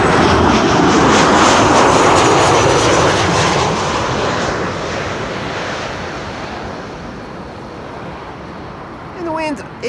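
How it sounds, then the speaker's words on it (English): A Boeing 737 jet comes in to land on runway 06 at Amsterdam Schiphol, a loud broadband engine roar that slowly fades over several seconds, with no talk during it. "This is the 737 to break up the pattern of back-to-back Embraer 190s."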